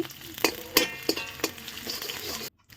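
Garlic, ginger and chilies frying in hot oil in a kadai, a steady sizzle broken by several sharp stirring scrapes, ending abruptly in near silence.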